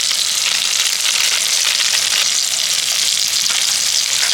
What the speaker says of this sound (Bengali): এবার একসাথে আরেকটু ভালো করে মশলাটা কষিয়ে নেব